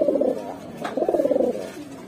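Pigeons at a pigeon shop give soft, low coos, two short rolling calls separated by a brief pause, close by with no voices over them.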